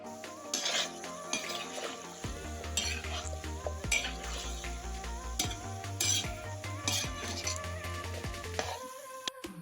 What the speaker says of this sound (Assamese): মছলাখিনি দিয়াৰ পাছত ভালদৰে এবাৰ লৰাই দি আকৌ অলপ সময়ৰ কাৰণে ঢাকি দিম